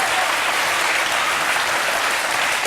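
Studio audience applause on a French television talk show, a dense, steady clapping that fills the space at full volume with no voices over it.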